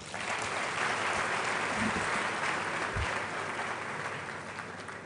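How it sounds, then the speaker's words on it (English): A large crowd at a university graduation congregation applauds steadily, dense clapping filling the space from start to finish with no voices standing out. "Please, another round of applause."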